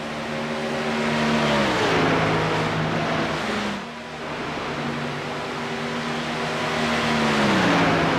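Porsche and Mustang GT3 race cars lap the Nürburgring in the iRacing sim, a loud, continuous engine drone whose pitch falls at a gear change, dips briefly, then climbs again as the cars accelerate, with no talk.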